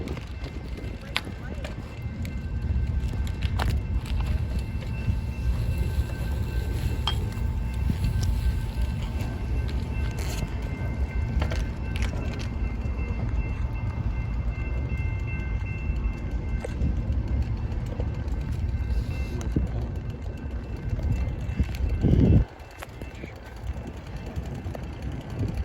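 A freight train rolls past in a steady, loud rumble of wheels and rail cars, heard from a car pacing it along a bumpy road, with jolts near the end as the train's last cars go by.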